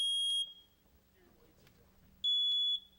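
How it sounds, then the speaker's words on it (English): Two ceiling-mounted smoke detectors in a test sound piercing high electronic alarm tones, one burst at the start and another near the end, loud and close, with a quiet low rumble of room noise between them. "We attached both types of smoke detectors to the ceiling."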